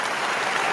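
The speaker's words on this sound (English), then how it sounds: "Clap it up for that." A crowd claps steadily for about a second, a dense and even wash of applause at moderate loudness with no voices on top.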